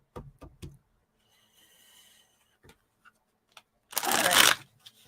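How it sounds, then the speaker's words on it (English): Tarot cards are shuffled by hand, close up, in a quiet room, with a few soft taps at first and then one loud, dense riffle lasting about half a second near the end. "Here I am shuffling, and I don't even know what I'm shuffling for."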